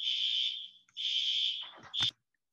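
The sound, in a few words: fire alarm going off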